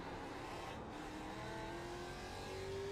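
Race car engines in the iRacing video game drone and rise steadily as the cars accelerate, a continuous faint-to-moderate rising whine with no voices heard.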